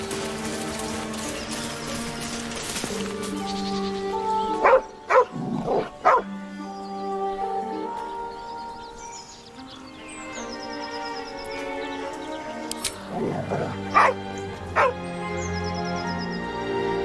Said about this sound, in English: The dog lowers his hackles